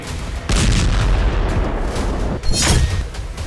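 Explosions from a drone attack on a Russian T-72 tank in Ukraine come as loud, heavy booms, a sustained blast roar starting half a second in and a second burst around two and a half seconds.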